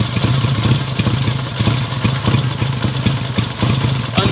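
An old British motorcycle engine, about 72 years old, idles unchoked close by with a loping, clattery beat, its low thumping pulses repeating steadily and evenly.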